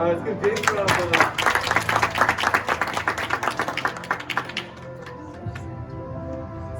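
An audience at a children's martial arts black belt ceremony claps in a brisk, uneven burst that thins out and fades after a few seconds, with a voice over the tail.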